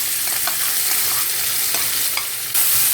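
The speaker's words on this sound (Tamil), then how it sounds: "ஆனியன் கொஞ்சம் வதக்கட்டும்." Onion sautés in hot oil with cumin in a kadai, a loud, steady close sizzle with occasional stirring scrapes and no voice.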